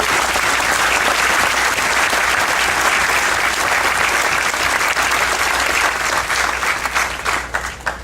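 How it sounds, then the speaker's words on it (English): Loud, dense applause from the audience at a VA clinic grand opening in Joliet, a sustained wash of clapping that holds steady for about eight seconds before thinning slightly at the end. "We get a round of applause."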